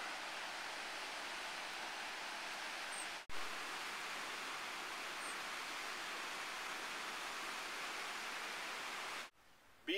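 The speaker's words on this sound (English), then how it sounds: "See the waterfall?" A waterfall in Valderejo National Park, Spain, pours as a steady, even rush of broadband water noise, unbroken apart from two brief dropouts.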